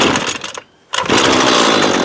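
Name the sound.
Husqvarna 128LD 28cc trimmer engine running during carb adjustment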